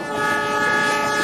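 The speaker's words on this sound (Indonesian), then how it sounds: "Mergo saka ngarepe uga wis cemlorot lampu sepur lan keprungu klaksone sing gero-gero." A train horn blares steadily and loudly throughout, sustained tones over rumbling rail noise as a train approaches at night, with lamps shining ahead.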